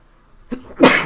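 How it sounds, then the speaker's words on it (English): One close, abrupt human sneeze, a short in-breath followed by a loud explosive burst that fades quickly. "Sorry about that sneeze."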